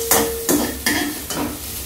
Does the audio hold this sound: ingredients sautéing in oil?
yes